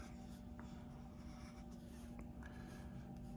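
Pencil or marker sketching graffiti letters on paper, a soft steady scratching of strokes over a constant low background hum, no talking.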